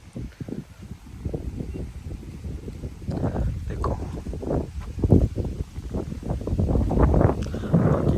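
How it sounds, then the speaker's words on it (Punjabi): Strong wind buffets the microphone in steady low rumbling gusts on a farm field, loud and close, growing stronger toward the end, with faint rustling behind it. "ਤੇਜ਼ੇ ਹਵਾ ਚੱਲਦੀ ਹੈ"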